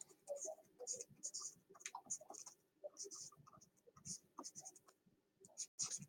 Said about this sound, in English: So we'll write the formula.